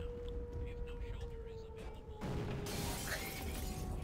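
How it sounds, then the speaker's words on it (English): Glass shattering in Garry's Mod, a sudden bright burst of breaking glass that cuts in midway over a steady low hum and lingers as a noisy wash. "glass breaking"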